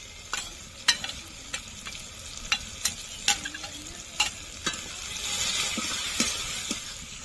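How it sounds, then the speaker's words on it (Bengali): Onions frying in a pan for chicken curry give a soft, steady sizzle punctuated by repeated sharp scraping clicks of a spatula stirring, close and moderately quiet, with a brief swell of frying hiss near the end. "পেঁয়াজটা প্রায় ভাজা হয়ে গেছে, আর একটু ভাজবো।"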